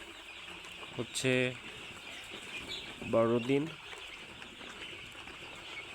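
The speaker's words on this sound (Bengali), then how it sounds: "এই মুহূর্তে ফার্মে আছে কালার বার্ড মুরগি" Colour bird chickens, twelve days old, on a poultry farm give two short bursts of clucking calls under quiet room tone, with someone speaking briefly.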